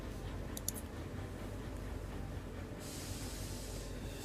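Rumbling rail noise from a train video game, two trains passing through each other, a steady low drone with faint clicks and a brighter hiss rising near the end.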